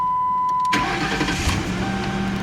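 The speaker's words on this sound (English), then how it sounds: "Let's go ahead and fire this car up" A 2008 Ford Crown Victoria Police Interceptor with 128,000 miles cranks briefly and catches, settling into a steady, close-up idle with no talking over it.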